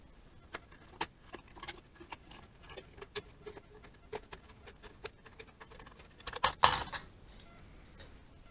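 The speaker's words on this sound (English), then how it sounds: "cut out the inside of the top of the can. I prefer to use a fixed blade knife with a thicker blade" Fixed blade knife with a thick blade cutting around the top of an aluminium pop can, faint scattered ticks and small metallic scrapes at an irregular pace, ending in a short louder cluster of clicks.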